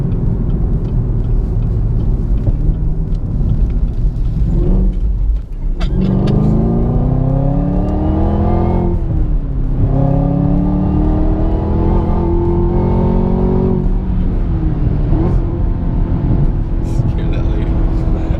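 A Chevrolet Camaro ZL1 1LE engine rumbling loudly as the car takes a turn, its pitch rising and falling as it revs, heard from inside with someone talking over it throughout.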